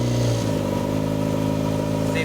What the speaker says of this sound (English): You can start the engine very easily on the key.